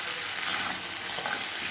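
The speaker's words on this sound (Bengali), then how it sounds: "কাশ্মীর লঙ্কা দিয়ে এবার ভালো করে এগুলোকে কষাবো।" Turmeric and Kashmiri chili powder sauté in a pan for a koi fish curry with cauliflower and potato, making a short, soft, steady sizzle with light stirring.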